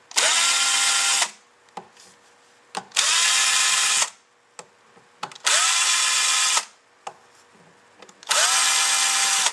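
A power drill works screws out of a Chevrolet AC part, four loud whirring bursts of about a second each separated by short pauses with small clicks and handling noises.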